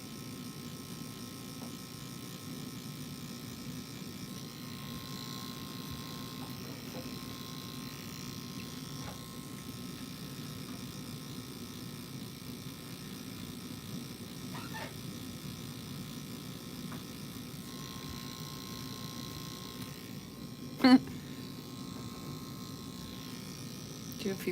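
A tattoo machine buzzes steadily and faintly during tattooing, a thin continuous drone with quiet voices murmuring in the background.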